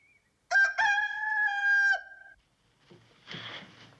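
Rooster crowing once, a loud close drawn-out cock-a-doodle-doo lasting about a second and a half, followed after a short pause by fainter rustling and clucking noise.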